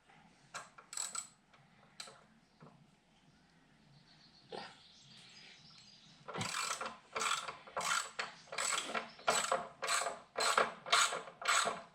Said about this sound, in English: So you're undoing the caliper bolts